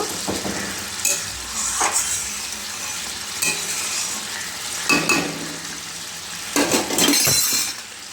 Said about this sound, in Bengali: দিয়ে দেবো এর মধ্যে মাছ। দিয়ে একটু নাড়াচাড়া করে নেব